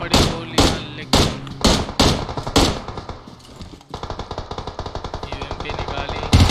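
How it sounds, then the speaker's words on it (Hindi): Gunfire in a battle royale video game: a string of heavy single shots in quick succession, then a long, rapid automatic burst, loud and close, ending with a final sharp shot. "गोलियां चल रही है"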